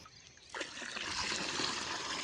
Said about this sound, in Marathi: ढवळल्यानंतर चांगलं ते सगळं पाणी 200 लिटर पाण्यात ओतायचं